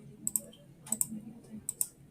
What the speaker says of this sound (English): I'm clicking on save.